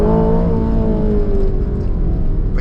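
A 2025 Aston Martin Vantage engine revving hard and close, a loud sustained roar with tones sliding downward as the revs fall, then a brief burst at the end.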